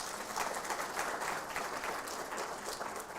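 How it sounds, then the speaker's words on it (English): Audience at a 2024 examination results announcement applauding school principals, a steady broadband wash of clapping sustained throughout at moderate level, no voices over it. "Can you give them a round of applause?"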